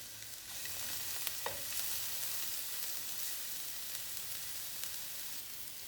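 Chopped onions sauté in olive oil in a pan for kimchi fried rice, giving a steady, close sizzle with a few faint stirring clinks and no talking.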